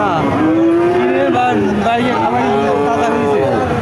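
A cow moos loudly and close at a cattle market, one long drawn-out low call rising and bending in pitch, with market noise behind it.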